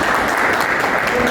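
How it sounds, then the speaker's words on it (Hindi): Audience at an IBC celebration and training party in Raipur breaking into loud applause, a dense, even burst of many hands clapping together from start to finish. "एक बार जोरदार तालियां।"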